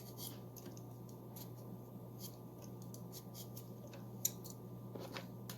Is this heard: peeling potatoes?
yes